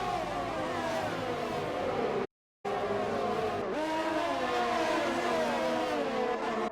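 Formula 1 cars racing in an Xbox video game at the Austrian Grand Prix, loud whining engines rising and falling through gear changes as cars run close together, broken by a brief silent cut.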